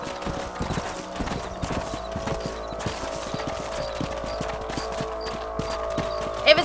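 Horse hooves clip-clopping steadily in the Red Dead Redemption western game, a continuous trotting rhythm of hoofbeats over a low ambient bed, moderately loud and alone without talking.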